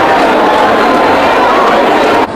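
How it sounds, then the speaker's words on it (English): Election night crowd at a Louisiana campaign headquarters screaming and cheering in a dense, steady roar that holds loud throughout, then drops off abruptly at the very end. "Big crowd is going crazy here"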